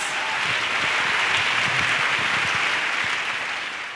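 A congregation at a church gathering applauds in acclamation for Jesus Christ, dense steady clapping from many hands filling the room at full strength for the whole stretch before easing slightly at the end.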